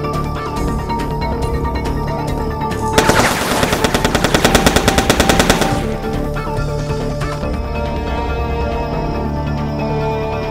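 Turret fire in the video game Foreclosed, a loud, rapid machine-gun burst of about three seconds set against a steady background hum.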